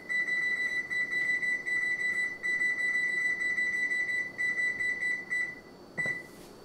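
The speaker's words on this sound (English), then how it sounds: "Turn the timer on." A kitchen oven timer being set for a keto enchilada casserole gives a steady run of high electronic beeps, loud and close, cut into short bursts before it stops near the end, with no voices.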